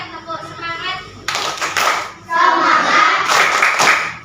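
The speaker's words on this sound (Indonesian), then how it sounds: "tambah semangat, tepuk semangat" Schoolchildren in a classroom clap a rhythmic spirit clap together, a burst of sharp hand claps that swells louder and denser over a few seconds, with kids' voices chanting along.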